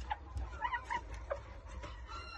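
Buff Columbian chickens cluck in a series of short, irregular, moderately near calls over a low background rumble, with no talk.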